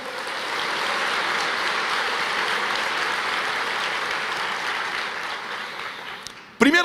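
A church congregation applauding during a Portuguese-language sermon: a broad, even wash of many hands clapping that holds steady for several seconds, somewhat distant and diffuse, then cuts off abruptly just before the end.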